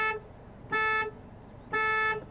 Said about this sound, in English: let's honk the horn on the 2020 Hyundai Venue